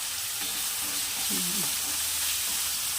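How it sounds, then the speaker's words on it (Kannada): Onions sizzle and fry in a pan for vegetable upma, a steady loud crackling hiss with a brief soft stirring scrape in the middle and no talking. "ಇದು ಸ್ವಲ್ಪ ಚೆನ್ನಾಗಿ ಫ್ರೈ ಆಗಲಿ ನಂತರದಲ್ಲಿ ಟೊಮೊಟೊ ಸೇರಿಸ್ಕೊಳ್ಳೋಣ"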